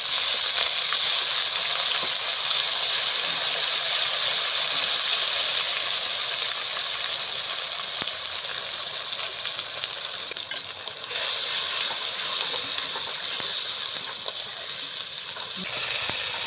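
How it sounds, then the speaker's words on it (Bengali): Onion and ginger paste fries in oil with black cumin, bay leaf and dried red chilli, giving a loud, steady hiss and sizzle that runs throughout, with a brief utensil clatter partway through and near the end. "পেঁয়াজ আর আদাটাকে ভালোভাবে ভেজে নিলাম"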